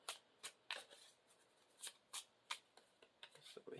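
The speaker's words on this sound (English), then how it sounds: "we'll go ahead and shuffle the obligation card for Hulk into the encounter deck" Cards for the Marvel Champions card game are shuffled by hand in a series of quick, crisp riffles and taps, close and quiet, with no talking.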